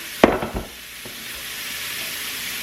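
Sausages dropped into a hot pan for gumbo, a sharp clatter at the start giving way to a steady hiss of grease frying, fairly loud and close.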